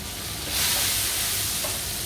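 Foie gras sears in a hot pan, giving a loud, steady broadband sizzle that swells and grows brighter after a moment, then holds as a continuous hiss with no talk over it.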